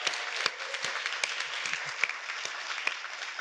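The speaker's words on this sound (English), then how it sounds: "Let's give Carol a big round of applause too." An audience at a governor's awards for excellence ceremony claps in a moderate, steady round of applause, with a few individual claps standing out from the crowd.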